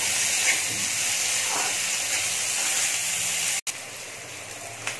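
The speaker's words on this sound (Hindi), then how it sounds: "प्याज और हरी मिर्च को ब्राउन होने तक पहले पका लूँगी" Onion and green chili frying in a pan for fish curry, a loud steady sizzling hiss close up that cuts out for an instant, then carries on.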